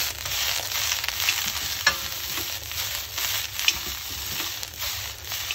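Broccoli sizzles in a hot pan while being stirred, a steady crackling fry broken by scraping stirs and a few sharp clicks of the utensil, close and without talk.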